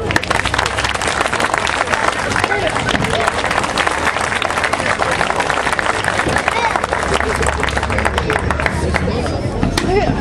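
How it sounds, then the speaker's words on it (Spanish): Loud, dense, sustained applause from a crowd at a Shinkyokushin karate exhibition at an outdoor flower fair in La Paz, Uruguay, steady throughout with crowd babble mixed in. "Muy fuerte el aplauso para esta técnica"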